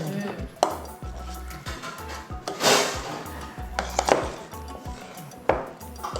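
Thick ragi kali dough is stirred in a pot, producing irregular knocks and scrapes from a utensil against the metal, with occasional sharper clanks and a soft rubbing texture between them.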